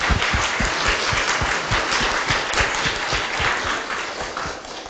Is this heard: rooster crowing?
no